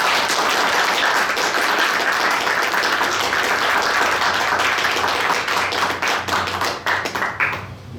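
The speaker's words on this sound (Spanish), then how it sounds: "Fuerte aplauso." A live podcast audience applauds a guest walking onto the stage, a dense, steady wash of clapping that holds loud for several seconds before thinning out and fading toward the end.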